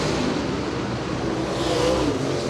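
Late model race cars roar around Merritt Speedway during a feature race, a steady loud engine drone with a rising whine near the end, crowd-distant and continuous with no talk.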